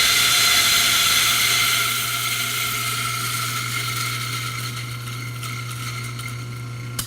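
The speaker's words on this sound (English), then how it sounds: "you put it in your grinder, and you run it through" An espresso coffee grinder runs with a capful of grinder-cleaning product fed through it, giving a steady, loud, close mechanical whir with a constant low hum that eases slightly after the first couple of seconds.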